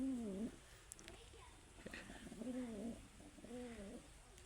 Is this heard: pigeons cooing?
yes